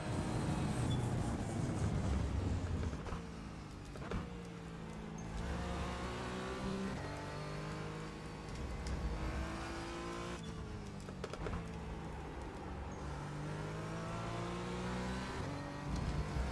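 Porsche 718 GT4 race car engine in iRacing, revving hard and steadily throughout with rising and falling pitch through gear changes and brief lifts, loud and close with no talk.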